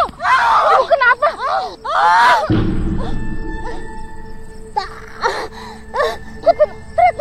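A woman screams and wails in long, rising and falling cries during a nighttime horror scene, loud and close, then a deep thud gives way to quieter sobbing moans under brief speech.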